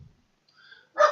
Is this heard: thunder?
no